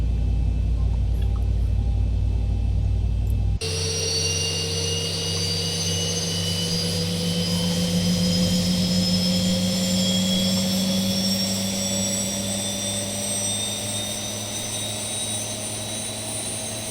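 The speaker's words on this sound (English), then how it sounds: "Starting engine 1 lever." Engine 1 of a Boeing 737 spools up in the Zibo 737 flight simulator: a loud steady rumble shifts to rising turbine whines that climb gradually in pitch over many seconds.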